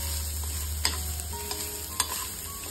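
Grated coconut frying and being stirred in a pan for sambar, a steady low sizzle with a few sharp spoon scrapes against the pan, close and fairly quiet.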